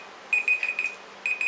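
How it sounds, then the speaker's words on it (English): A timer alarm goes off in short repeated high beeps, a run of four quick pulses, a pause, then two more, fairly clear against quiet room tone. "You hear my timer?"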